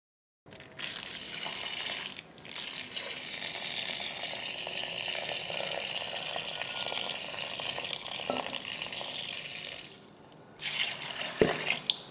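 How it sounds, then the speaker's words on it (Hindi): Split chickpeas (chana dal) being rinsed by hand in a bowl of water, a steady splashing and swishing that runs for about ten seconds, pauses briefly, then resumes with a few louder sloshes near the end. "पहले आप इसे पानी डाल के साफ करें। आपने इसे धोना है, उस वक्त तक धोएं जब तक पानी साफ ना हो जाए।"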